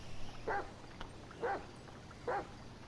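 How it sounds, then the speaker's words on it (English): A dog named in GTA 5 gives three evenly spaced barks about a second apart, moderately close and clear over a low background hum, with no talking. "Stop barking at me, man."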